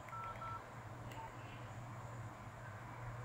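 A gold dragon-decorated Nokia 8800 phone dials 900, giving a few short keypad tones near the start over a steady low hum.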